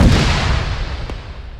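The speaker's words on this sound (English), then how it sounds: "Something big blew up." Distant large blast during an airsoft or milsim game, a heavy low boom decaying over about a second and a half, with a sharp pop near the end.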